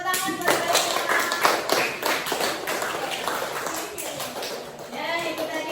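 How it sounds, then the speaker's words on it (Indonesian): An audience claps in steady applause at a community activity event, loud and sustained throughout, with a voice speaking faintly underneath. "kasih tepuk tangan buat Mbak Irma."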